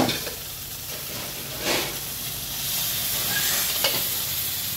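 Whole masoor lentils hitting hot oil in a pan give a steady, loud, close sizzle with brief stirring bursts, and the hiss continues throughout.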